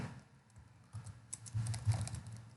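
Typing a command on a computer keyboard while setting up a Django environment in a console, with light, quick key clicks in an irregular run that grow a little denser toward the end, close and alone with no talk.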